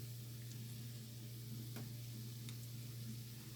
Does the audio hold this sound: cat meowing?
no